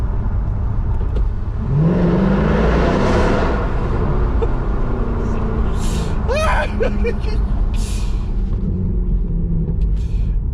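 Mercedes C63 AMG engine roars inside a tunnel, a loud sustained rumble swelling as revs climb, with echoing reverberation and a sharp rising burst partway through, no talking over it.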